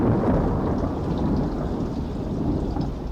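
Heavy rain and rolling thunder fill a radio play scene, a dense, loud, continuous downpour with a deep low rumble underneath, steady and close with no voices.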